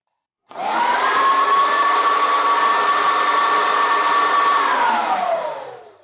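A repaired kitchen mixing machine motor starts abruptly, whirs at a loud steady pitch for several seconds with a slight rise in tone, then winds down as it is switched off.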